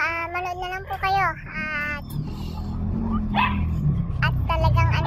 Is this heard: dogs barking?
yes